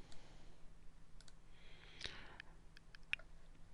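A computer mouse clicks on a point-of-sale screen: a faint, sharp single click in a quiet room, followed by a couple of softer ticks.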